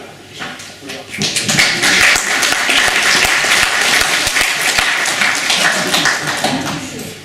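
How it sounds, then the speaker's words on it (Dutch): Hearty applause from the guests at a festive community dinner, loud dense clapping that builds quickly and holds steady, with a voice faintly audible underneath. "misschien wel een hartelijk applaus voor"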